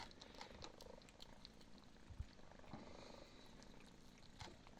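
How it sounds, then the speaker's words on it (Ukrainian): A small kitten, abandoned at a gas station and now calming down, purrs steadily and softly up close, with a low continuous rumble and faint background noise. "Вже муркоче"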